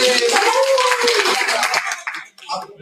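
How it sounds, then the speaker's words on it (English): A classroom of students gives a brief round of applause, dense clapping at close range that thins out after about two seconds, with chatter and laughter mixed in. "Give me a round of applause. Let's get a round of applause."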